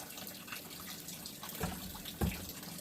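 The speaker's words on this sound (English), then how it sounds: "Start out as usual by rinsing out the barrel." Running water rinses out a 6-pound rock tumbler barrel of big agates after a week in the polish phase, a steady close splashing rush with a couple of louder sloshes near the end.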